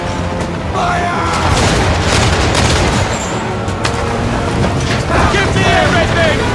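Ship cannons fire in Assassin's Creed III during a naval battle, heavy booms repeating over dense rumbling sea and ship noise, loud and continuous, with shouted commands nearby.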